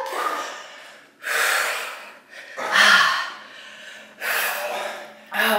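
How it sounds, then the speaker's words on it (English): Heavy, forceful exhales and sharp breaths during a shoulder workout come in four or five separate bursts, close and loud, with short quiet gaps between them. "Exhaling on the way up."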